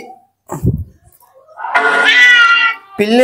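A cat meows once loudly and drawn out, close by, after a short low thump and murmur at the start.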